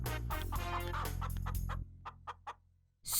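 A cartoon chicken clucking, first a long run of loud, close, rapid clucks, then a few short isolated clucks after a pause, ending with a sudden burst of sound.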